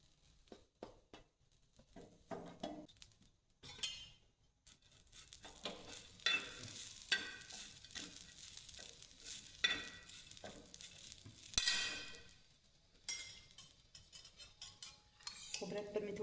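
Dry coconut roasting in a pan for a spicy mutton rassa, with quiet, intermittent spatula scrapes and clinks and a faint sizzle in between.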